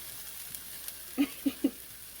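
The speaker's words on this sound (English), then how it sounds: "This meal does not require as much stirring as I'm doing." A spatula stirring shrimp fried rice in a pan, three soft scraping knocks in quick succession over a faint background hiss.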